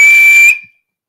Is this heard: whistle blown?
yes